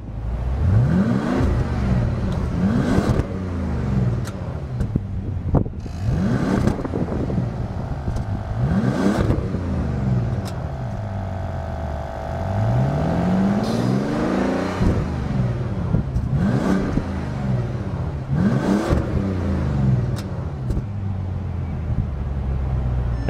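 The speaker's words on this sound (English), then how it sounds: "Fantastic engine sound, very smooth." A 2012 Bentley Continental GT's engine is revved repeatedly from idle, about eight rising and falling revs in an uneven rhythm, loud and close, with a smooth hum between the revs.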